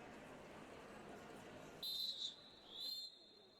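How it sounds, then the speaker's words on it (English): A referee's rolling whistle starts a jam at a 2023 MRDA Western Hemisphere Cup roller derby game, Carolina Wrecking Balls versus San Diego. It gives one shrill trilled blast and then a shorter second one over a murmuring arena crowd. "that rolling whistle does signal the start of Derby"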